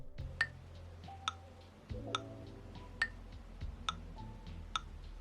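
A short rhythmic pattern in 6/8 compound time, six quavers to the bar, played on a plucked, tuned instrument with a low sustained bass part. Bright accented ticks recur about once a second over a steadier low layer, moderately quiet and with no voices.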